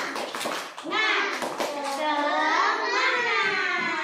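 Kindergarten children perform a rhythmic cheer clap: a few sharp claps at the start, then a chorus of young voices chanting together in a bright, sustained unison over the room.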